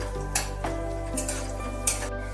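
Spice tempering with chopped garlic sizzles steadily in a pan over a low simmering flame while being stirred, with a few brief louder scrapes and clinks of the spoon against the pan.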